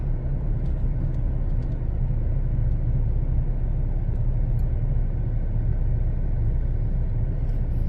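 A car drives along a road in Vientiane, heard from inside as a loud, steady low rumble of engine and tyres that holds constant throughout with no talking.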